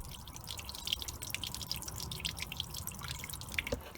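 Water flushing out of the bottom of a VW T5 windshield washer fluid bottle, a faint steady trickle and patter of dripping liquid.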